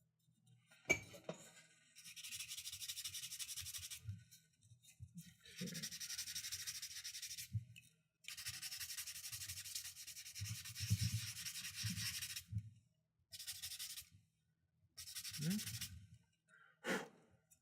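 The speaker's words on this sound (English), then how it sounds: "That's sort of sanding." Rhythmic scratchy rubbing of sandpaper worked by hand on putty in several bursts with pauses, close by, with occasional breaths and faint murmurs between strokes.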